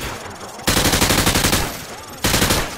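Gunfire from the video game Modern Warfare 2 as a weapon shoots through light cover: a loud, rapid automatic burst of evenly spaced shots lasting over a second, then a pause and a second burst starting.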